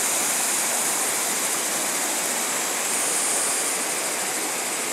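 A mountain stream rushes steadily and loudly nearby, a dense, unbroken watery roar with no voices over it.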